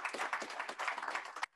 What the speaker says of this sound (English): And so let's give it a round of applause